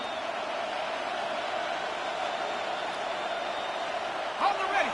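Steady stadium crowd noise from the Madden 26 football video game during a playoff game, a constant roar with a small swell near the end under commentary.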